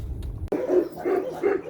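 Several dogs bark in outdoor kennels at a rescue ranch, three or four loud, close barks in quick succession after a short burst of other noise.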